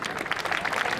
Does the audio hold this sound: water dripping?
no